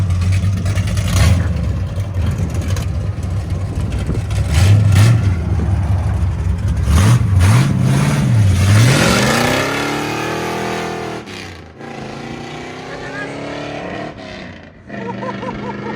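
A 1970 Chevy Chevelle SS 454 big-block V8 with headers, straight-pipe exhaust and a six-speed manual, loud and close, revving repeatedly with rising and falling sweeps before settling toward a rough idle.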